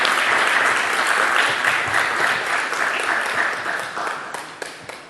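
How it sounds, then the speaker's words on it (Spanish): Audience at an event in Carmen de Areco applauds to welcome Luis María González Unamuno, a strong, dense burst of clapping that starts at full volume and slowly tapers off toward the end. "Luis María, para quien pido un fuerte aplauso."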